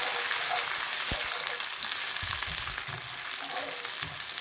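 Garlic and canned tomatoes sizzle in a pan for peri peri chicken, making a loud, continuous hiss close by with a few soft stirring thumps underneath.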